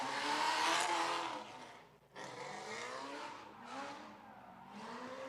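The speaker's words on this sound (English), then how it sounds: "Miata exiting out the back." Red Mazda Miata drift car leaving the pit at a drift event, a loud engine roar with tire noise that peaks early, dips briefly, then carries on at a steady moderate level as it moves off.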